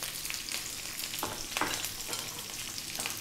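Chopped onion, garlic and ginger frying with fresh curry leaves in hot oil for a vegan rice dish, giving a steady close sizzle and crackle with a few louder spits and stirring sounds.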